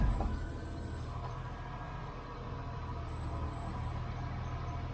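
Ford Fairmont AU Falcon car pulling away, a steady low engine drone and road rumble heard from inside, fairly faint and even, with no one speaking.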